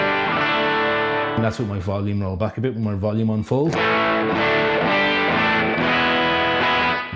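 Electric Telecaster guitar played through a Joyo Aquarius delay pedal into an amp, with sustained, distorted chords and repeats ringing throughout. Someone speaks briefly over the playing in the middle.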